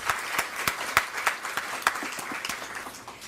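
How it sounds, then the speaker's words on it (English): A conference panel audience gives a round of applause, scattered individual claps with a few sharp close ones, fairly sparse and fading toward the end. "I think both Miriam and Michael deserve a round of applause"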